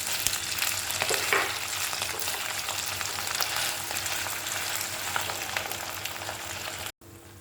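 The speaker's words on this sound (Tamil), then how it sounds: "கொஞ்சம் நல்லா வதக்கிக்கோங்க உருளைக்கிழங்கு நெய்யில்." Mashed potato sautéing in ghee for potato halwa, a steady close sizzle and fry with scraping stir strokes running throughout, cutting out briefly near the end.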